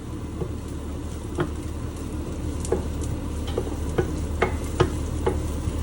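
Garlic fries in a pan for a Cambodian stir-fried vermicelli noodle dish, a soft continuous sizzle broken by scattered light scrapes and taps of a utensil stirring it, fairly close.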